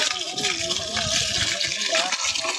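Water gushes up forcefully from a hole drilled into rock during stone work, a loud continuous rushing and splashing with faint voices in the background.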